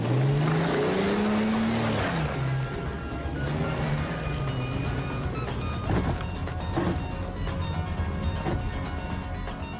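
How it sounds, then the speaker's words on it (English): A car engine rumbles and revs as the vehicle pulls away, a loud steady motor drone that rises and then holds, with no talking over it. "Jump in, I'll show you a real motor."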